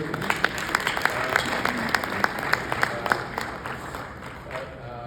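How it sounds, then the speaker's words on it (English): An audience at a book prize event applauds with a burst of dense clapping and distinct individual claps, fading out toward the end. "I think, if I'm allowed to give a round of applause to David Ruderman."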